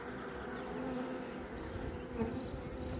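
Honeybees in a hive box fill the air with a steady, close, even buzz that hums continuously without any talk.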